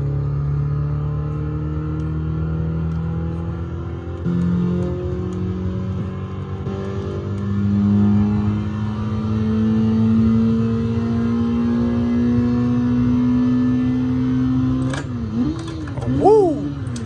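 An engine in a realistic PC driving game, played with a USB sim shifter, revs and climbs steadily through a VTEC rise with rising pitch, then briefly blips up and down near the end at loud, close level.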